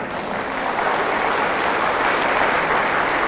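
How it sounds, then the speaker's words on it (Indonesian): An audience at an Islamic study gathering in Jakarta breaks into loud, continuous clapping, a thick wash of many hands that builds slightly and stays strong throughout. "Siapa yang paling kuat tepuk tangannya"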